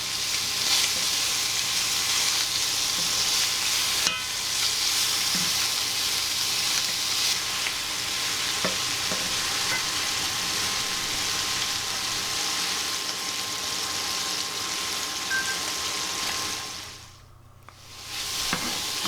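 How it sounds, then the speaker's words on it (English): Bacon frying in a pan until crispy, for a chicken, bacon and mushroom slice. A constant, dense sizzle hisses for the whole stretch and briefly drops away near the end. "you just want to fry this until it's sort of crispy"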